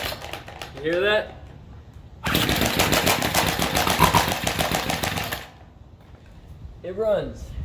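Two-stroke weedeater engine, fresh off a spark plug cleaning, bursts into loud raspy running for about three seconds, then cuts out, with a voice talking briefly before and after.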